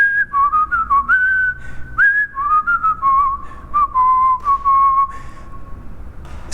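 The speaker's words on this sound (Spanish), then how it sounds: "comienza a silbar una tonada que incluso está escrita" A person whistles a tune alone, a clear, steady melody of gliding pure notes with short breaths between phrases, close and fairly loud.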